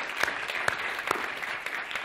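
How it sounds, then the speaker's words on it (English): Audience applause at a lecture hall event, a fairly quiet crowd clapping steadily with a few sharper individual claps standing out for about two seconds. "I think they deserve a round of applause."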